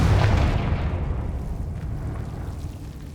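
A Confringo fire spell from Hogwarts Legacy erupts in a loud, deep blast that then rolls off into a long, fading rumble, with no voices over it.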